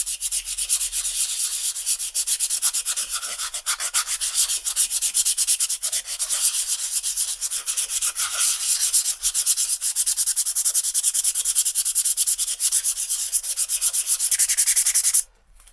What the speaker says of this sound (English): First, you're going to sand it down.